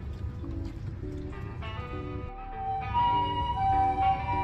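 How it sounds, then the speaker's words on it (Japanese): An ambulance siren wails amid heavy road traffic in Japan's Noto Peninsula earthquake zone, its tones shifting and growing louder as the vehicle draws nearer. "道中何台もの救急車に遭遇。"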